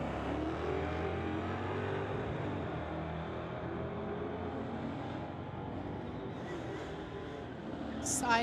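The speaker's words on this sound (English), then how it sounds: "Side-by-side racing here, folks." A 1973 Camaro and a 2022 Dodge drag race side by side, engines roaring loud and sustained down the strip before fading slightly, with an announcer's voice over the racket.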